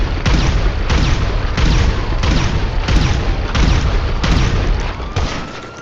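Railgun shots pound a ground vehicle in the video game GTA, a loud, rapid string of heavy booms about twice a second for several seconds before tapering off.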